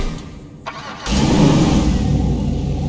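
A Vapid Clique Wagon muscle car engine in GTA 5 starts with a sudden loud roar, then keeps revving in a deep, steady growl up close.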